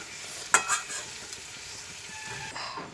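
Chicken pieces sizzle steadily in hot oil while being stir-fried for chicken kosha, a continuous frying hiss with a sharp scrape of stirring early on.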